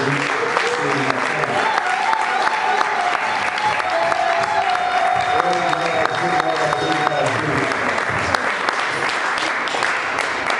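A church congregation applauds and cheers during a French-language sermon service, a sustained dense clapping that carries on for several seconds without letup.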